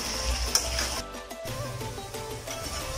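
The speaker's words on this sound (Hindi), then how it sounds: "ये सारी अरबी हम इसमें डाल देंगे, इसको तकरीबन 5 मिनट के लिए हम इसको फ्राई कर लेंगे" Taro root (arvi) pieces frying in hot oil in a home kitchen, giving a steady crackling sizzle with brief stirring clatter, close and moderately loud with no talking.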